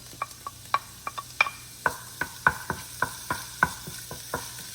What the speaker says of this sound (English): We just want to add our little garlic right here